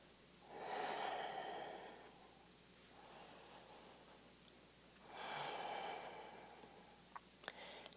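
Deep breathing in a yoga class, two long audible breaths several seconds apart, close and soft, with faint rustling near the end.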